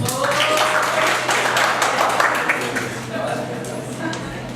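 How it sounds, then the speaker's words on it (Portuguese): Audience at a constitutional law lecture applauding, a sustained burst of clapping with a voice speaking over it and a low hum beneath, easing off near the end. "Uma salva de palmas."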